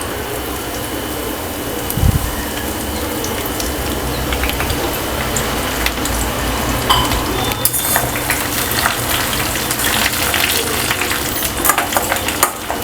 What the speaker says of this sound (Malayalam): കറിവേപ്പില നന്നായിട്ട് പൊട്ടി വരണം